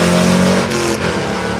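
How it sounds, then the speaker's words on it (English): An AMC Rambler station wagon race car at Virginia International Raceway revs hard and pulls away from the start, its engine note loud and close at first, then shifting as it heads off toward turn one. "he is down and away, scooting off towards turn 1"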